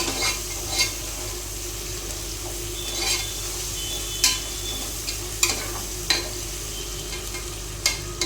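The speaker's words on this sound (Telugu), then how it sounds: "కొద్దిగా ఫ్రై అవనిద్దాము." Green chillies fry in a pressure cooker while being stirred, giving a steady close sizzle broken by several sharp scrapes and clinks of the spoon against the metal.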